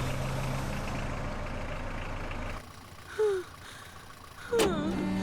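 A vehicle's engine rumbles steadily, then drops away abruptly as it pulls over and stops, followed by two brief squeaky bursts in the quieter stretch.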